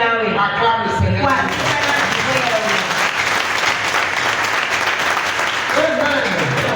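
A church congregation applauds together during worship, loud sustained clapping close by, with a voice briefly heard over the start and cheering or calls near the end.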